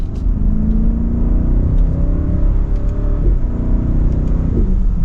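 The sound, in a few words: 2024 BMW X7 M60i engine revving with exhaust pops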